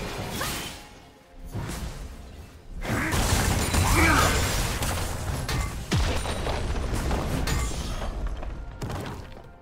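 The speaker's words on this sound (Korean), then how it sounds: "빨간 팀의 포탑이 파괴되었습니다." A turret being destroyed in League of Legends: whooshing and mechanical clanks build into a loud crashing boom with shattering debris, sustained game effects filling the background.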